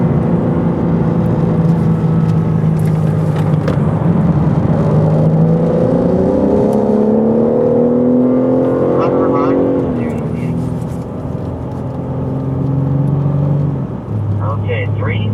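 A car laps a race track with a loud, continuous engine whine that climbs and falls in pitch through gear changes and corners, and people talk over it inside the cabin.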